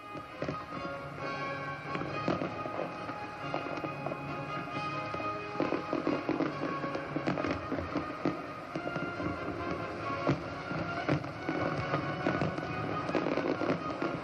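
Fireworks burst repeatedly over a harbour in a dense, crackling barrage, with booms and pops overlapping continuously from a moderate distance.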